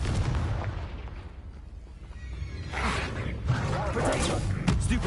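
A Confringo blasting curse effect bursts out with booming, explosive noise, heavier swells building in the second half, with a voice faintly present in the mix.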